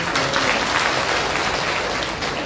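A large gathering of Buddhist lay devotees breaks into loud, dense applause that holds steady and close for the whole stretch, with no talking over it.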